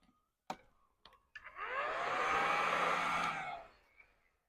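Heat gun blowing on chrome delete vinyl wrap on a Silverado High Country, a few clicks as it starts, then a steady airy whoosh for about two seconds before cutting off.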